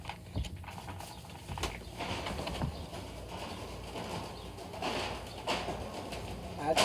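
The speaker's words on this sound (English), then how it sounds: "That's my birds." Pet birds, pigeons or doves, cooing softly indoors with intermittent low throaty calls over a faint background of room noise and small mechanical clicks.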